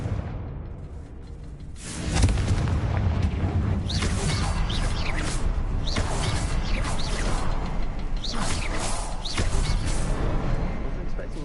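Confringo spell fire in Hogwarts Legacy on PS5: a sudden burst followed by rolling crackling blasts, whooshes and debris clatter, loud and dense with game effects and speech mixed throughout.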